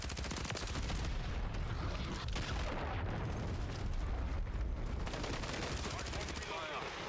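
A missile explosion in the shooter game Warzone lands amid dense, continuous gunfire and booming blasts, a loud, chaotic wall of battle noise with voices mixed in.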